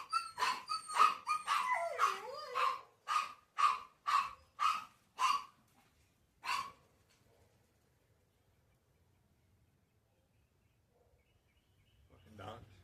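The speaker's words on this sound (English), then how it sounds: "Fucking dogs." A run of dog barks, about a dozen sharp loud yaps in a rapid then spaced rhythm with a whimpering pitch glide mixed in, followed by a long near-silent stretch.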